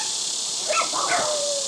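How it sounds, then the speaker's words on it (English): Dogs give a couple of short whimpering yips over a steady hiss, faint and brief, with no speech. "Dogs."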